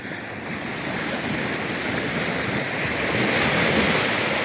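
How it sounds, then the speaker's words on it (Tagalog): Steady surf rolls onto the sandy beach at Nasugbu, Batangas, a broad continuous wash of waves with gentle wind noise on the microphone and no voices. "Punta pa lang yung alon sa Dalampasigan, naghakot na ng buhangin, oh."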